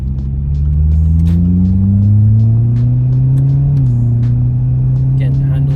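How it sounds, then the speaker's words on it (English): A Jaguar XE 25t sedan takes a sharp turn, its engine note droning and slowly rising in pitch, then dipping briefly, heard loud and close from inside the cabin. "Just taking a little bit of a sharpish turn here, kind of see what it is that she can do."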